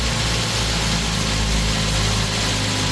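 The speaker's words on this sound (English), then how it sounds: "Let it idle like this until the engine will get warm." Mazda 3 engine idling after a water pump and thermostat replacement, a steady, close, even hum that runs without change for the whole short stretch.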